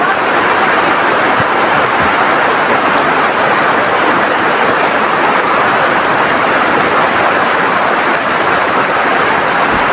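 Steady, dense rain pouring down, a constant hissing patter with no pauses and no voices.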